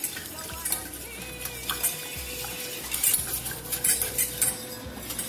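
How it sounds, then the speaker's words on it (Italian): A utensil stirs vegan lasagna sauce in a pot on the stove, giving close scraping swirls and scattered light clinks against the pot over a low background hiss. "Continuo a mescolare"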